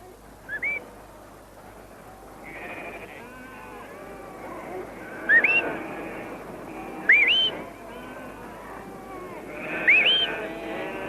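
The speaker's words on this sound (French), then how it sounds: "En écoutant le sifflement de son maître, il dirige les moutons" A shepherd's sharp rising whistles, several short ones spaced a few seconds apart, directing a herding dog, sound over a bed of sheep bleating and faint background noise.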